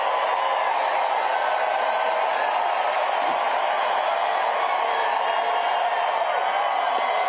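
A large rally crowd roars and cheers continuously, a dense, steady wash of voices and whoops that holds at the same loud level throughout with no break.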